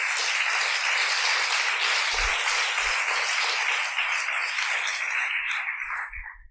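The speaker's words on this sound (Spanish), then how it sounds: "Dele el aplauso bien fuerte al Señor." Loud, sustained congregational applause during a Christmas church service, dense and even throughout before trailing off at the very end.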